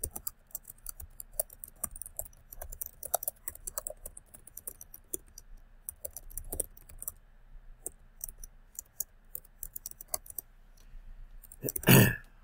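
Typing on a computer keyboard: a personalized message is tapped out in an irregular stream of light, close key clicks with pauses, ending in a louder burst of clicks.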